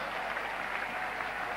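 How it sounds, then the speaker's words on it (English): Steady applause from a cricket Test match crowd in 1975 at the Ashes, a dense, even patter of many hands clapping at a distance, continuous and without pauses. "And to a roar of applause,"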